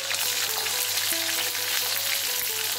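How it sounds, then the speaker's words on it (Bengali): Capsicum and chopped ginger fry in hot oil for chilli paneer, giving a steady, close, bright sizzle that carries on without a break and with no talking. "তার সঙ্গে আদা কুচোনো একসাথে ভাজা হবে।"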